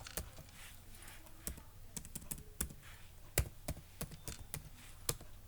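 Keystrokes on a computer keyboard during data entry, a steady run of sharp, irregular clicks with a few louder taps, close by and fairly quiet over a low background hum.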